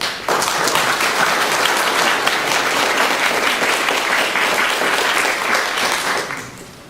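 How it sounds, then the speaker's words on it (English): A forum audience on city planning gives volunteers a full round of applause: dense, steady clapping from many hands that starts abruptly and holds for several seconds before tapering off. "Give them a round of applause for being here with us."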